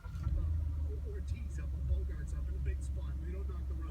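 A 2016 Ford F150 engine runs at a steady idle after a remote start, a loud continuous low rumble with some background voices.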